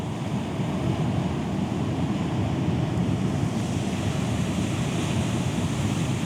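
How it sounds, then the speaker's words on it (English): Steady, continuous roar of ocean surf crashing on rocks at Rumbling Kern, with wind noise, heavy and unbroken throughout, with no voices. "waves are like 20-foot waves"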